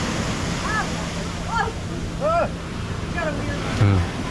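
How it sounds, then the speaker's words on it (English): Ocean surf at Carolina Beach gives a steady roar heavily masked by wind buffeting the microphone, with a person talking briefly. "look at these waves, look good"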